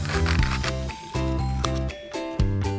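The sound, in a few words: scissors cutting out a paper bunny nose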